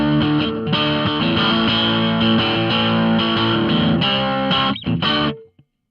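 Electric guitar played through a Hotone British Invasion Nano Legacy amp with gain near three o'clock and reverb off, giving dense, distorted sustained chords loud and steady before cutting off abruptly at the end.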